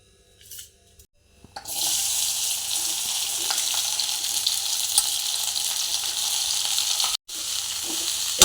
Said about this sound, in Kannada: ಸ್ವಲ್ಪ ಎಣ್ಣೆ ಹಾಕಿ ಎಣ್ಣೆ ಬಿಸಿಯಾದ ನಂತರ ಬೆಂಡಿಯನ್ನು ಫ್ರೈ ಮಾಡುವ